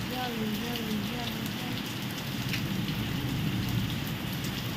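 Steady rain pouring onto surfaces outdoors, a dense continuous hiss with scattered drop splashes and a faint low rumble; a voice murmurs briefly underneath.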